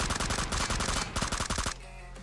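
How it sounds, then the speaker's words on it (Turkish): Rapid bursts of M4 rifle fire in PUBG Mobile, loud and close, repeated automatic volleys stuttering for under two seconds before cutting to a steady low hum, with no talk over it. "Bir de M4'ün şarjını değiştirip bir daha atsam."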